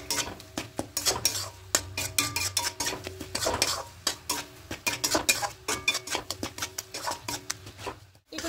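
Dudh puli pitha filling being stirred steadily in a pan over a gas flame, with continuous scraping and clinking of the spoon against metal and a faint sizzle underneath, close and without voices.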